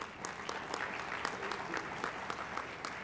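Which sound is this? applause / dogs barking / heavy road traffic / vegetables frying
applause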